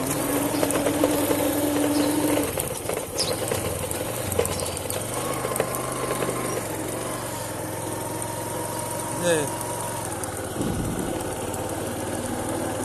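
A motorcycle engine runs steadily nearby while hauling soil, its pitch shifting as it revs up and settles, with a brief drop in the sound near the end.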